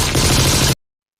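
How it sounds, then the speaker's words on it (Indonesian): A rapid burst of gunfire from inside a car rattles loudly for under a second, then cuts off abruptly into silence. "mereka tiba-tiba diserang oleh tembakan dari dalam mobil"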